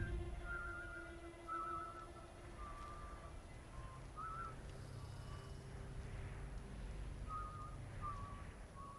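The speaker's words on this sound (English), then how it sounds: "that tune she was whistling sounded so familiar to me" A woman whistling a tune in the video game Dishonored 2, short wavering melodic phrases repeated at intervals, fairly faint over a constant low ambient rumble, with no talk.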